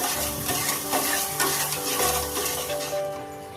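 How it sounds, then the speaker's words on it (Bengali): Sugar, water and salt stirred in a pot until the sugar dissolves, a continuous close scraping and swishing sound with faint bubbling underneath. "এই সবগুলো ভালো করে নাড়াচাড়া করে চিনিটা গলিয়ে নেব।"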